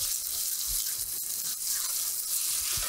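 Onions frying in a pan, a steady bright sizzle with faint stirring scrapes, close and continuous throughout, no talking.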